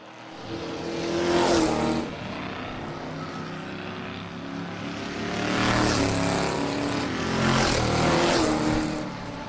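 Race cars lapping a dirt-track feature race, engines roaring past in loud swelling waves that rise and fade two or three times over a constant background drone.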